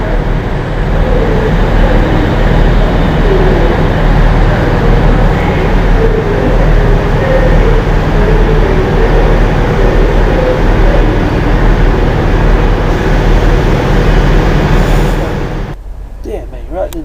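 Virgin train bound for London Euston, steady loud rumble and rail noise throughout with voices over it, cutting off sharply near the end.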